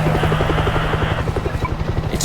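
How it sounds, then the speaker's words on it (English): Rapid rhythmic rotor thudding of a military helicopter in the zombie video game World War Z, steady and fairly close, with no talking over it. "Is that a helicopter?"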